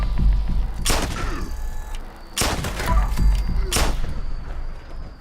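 Gauss pistol shots ring out in Fallout 76, three loud, sharp cracks spaced about a second and a half apart over a continuous low rumble of game background noise.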